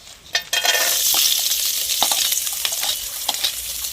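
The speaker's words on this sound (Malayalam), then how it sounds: "തേങ്ങ ഏകദേശം മൂപ്പാവാറായി." Coconut pieces fry in hot coconut oil after the ginger has been fried, giving a loud, crackling sizzle that swells after a few stirring knocks and carries on steadily. No one speaks.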